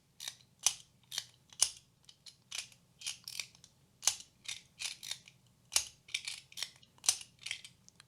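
A metal Sky Breaker fidget slider by MOT is slid back and forth repeatedly, giving crisp clicking snaps in a quick irregular rhythm, close up and quiet, with no talking.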